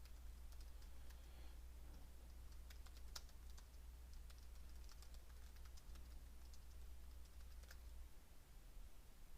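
Quiet, rapid tapping on a computer keyboard, scattered clicks over a steady low hum, faint and close.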